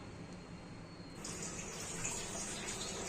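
Water pours into a mixer jar while rice puttu is made in a kitchen. Faint background noise gives way to a soft, steady trickle that keeps running, with no talking.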